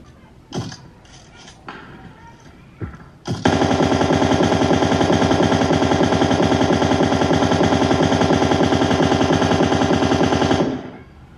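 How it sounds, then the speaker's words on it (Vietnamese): Rapid automatic gunfire from a mobile shooting game's training mode plays through a Bluetooth speaker, a loud sustained burst of about seven seconds. A few short thumps and clicks come before it. "Nghe tiếng súng thử như thế nào nha."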